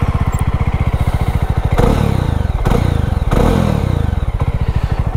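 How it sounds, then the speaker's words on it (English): Jawa 42 motorcycle idling with a loud, deep, throaty thumping exhaust, broken by three sharp throttle revs that swell and fall back to the steady bassy idle, close up and with no talking. "you can hear a very throaty and a bassy exhaust"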